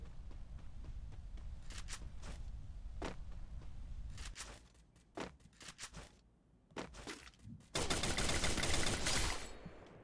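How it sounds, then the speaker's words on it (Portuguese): FAMAS rifle bursts ring out in the Free Fire video game, a series of sharp cracking shots in short clusters, with a brief lull before a loud, sustained stretch of rapid fire. "Rajada de famas quando pega certeira"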